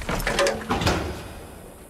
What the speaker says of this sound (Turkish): Gel bir kapıyı kapat!